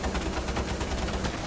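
Sustained rapid gunfire from a Rainbow Six Siege match, dense and continuous, with overlapping bursts that sound like automatic weapons firing close by.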